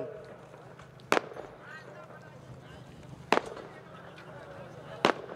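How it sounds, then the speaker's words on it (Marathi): Three sharp firecracker bangs burst out at irregular intervals over a steady background of crowd murmur and distant voices at a political rally in Umarga. "हे फटाके जरा"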